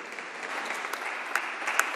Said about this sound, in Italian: Facciamo un applauso ai genitori.